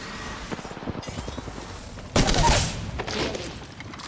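Gunfire in an online shooter video game, a burst of shots swelling midway over a busy layer of game effects and low rumble.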